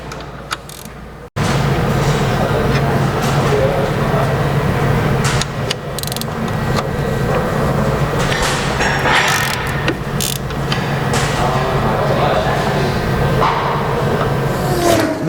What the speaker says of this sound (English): With the wheel off, we can remove the slide bolts from the caliper.